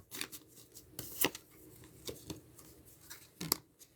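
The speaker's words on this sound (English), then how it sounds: "One more shuffle, one more cut." Tarot cards being shuffled and cut by hand, a series of soft papery riffles and sharp snapping ticks spread across a few seconds, fairly quiet and close with no talking.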